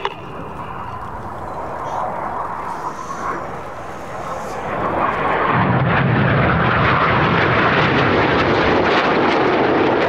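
A Red Arrows jet climbs during an air display at Sywell Airshow, a distant engine whine giving way to a louder, rising jet roar that builds after a few seconds and holds strong to the end.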